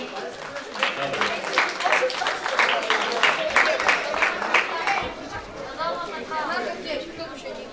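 Clapping and crowd chatter fill a room at a St. Nicholas Day club party of MLKS Polonia Środa Śląska as applause rises for the juniors, then fades into murmuring voices.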